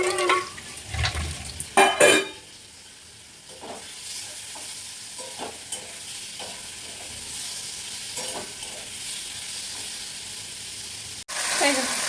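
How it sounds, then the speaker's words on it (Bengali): Prawns sizzle steadily in a hot pan, with louder bursts of stirring and scraping near the start and brief clatter later, close and moderately loud throughout without any talking. "এখন হচ্ছে গিয়ে চিংড়ি মাছ ভাজা"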